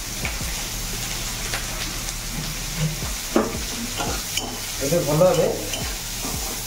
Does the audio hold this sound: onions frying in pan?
yes